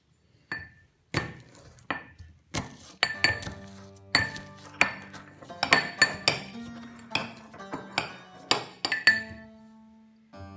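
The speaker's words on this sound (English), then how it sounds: "Now crush the garlic in a mortar with a little bit of salt." Garlic crushed with salt in a mortar: a steady series of sharp, close knocks and clinks from the pestle, falling in an uneven rhythm with no voices.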